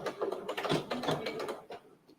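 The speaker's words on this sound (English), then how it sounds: "And I am going to back stitch here." A domestic sewing machine back stitching Italian leather makes a quick, close mechanical rattle of needle strokes for about two seconds before stopping.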